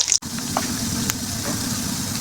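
Chopped onion sizzles in hot cooking oil in a wok, a steady close frying hiss with a sharp crackle at the start and faint clinks over the continuous sizzle.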